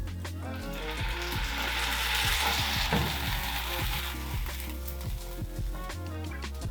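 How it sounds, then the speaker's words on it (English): Caramelized onions in a hot pan deglazed with brandy, a steady sizzle and hiss with scraping stirring knocks throughout, close and moderately quiet, with no talking. "So next we're going to deglaze with our brandy, taking great care not to remove our eyebrows."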